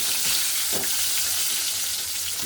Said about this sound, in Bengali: এবার আমি এই তেলটার মধ্যে এই আলুগুলো একটু ভেজে নেব।